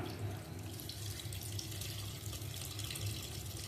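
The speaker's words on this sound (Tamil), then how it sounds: "இப்போ அந்த புளி தண்ணியை அதை சேர்த்துடலாம்" Tamarind water pours into a pan of brinjal thokku, a soft, steady splashing stream at a moderate distance with no talking.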